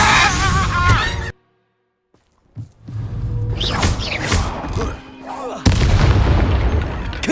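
Descendo slam spell in Hogwarts Legacy, a heavy thudding impact followed by rumbling crashes after a short silence, loud and close, with voices and game sounds around it.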